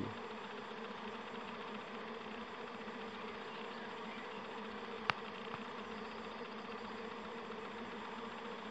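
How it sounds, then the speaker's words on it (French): A steady, dense buzz of many bees flying close by fills the clip, with one sharp click about halfway through. "les abeilles dans tous les sens"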